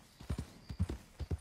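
Horse hooves clip-clop in a steady paired rhythm in Red Dead Redemption 2 as two riders pass on horseback, the hoofbeats fairly close and clear, with no talking over them.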